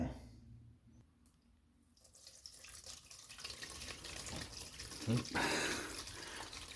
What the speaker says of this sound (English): Well, I can hear water coming down the drain.